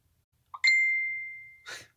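Phone notification ding: a single bright chime that rings out and slowly fades over about a second, followed by a short, soft breathy sound in a quiet room.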